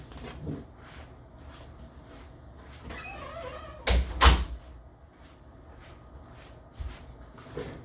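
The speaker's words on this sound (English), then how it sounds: "My fucking door keeps slamming." A door slams indoors, two sharp heavy bangs close together, with quiet room noise around them and no speech.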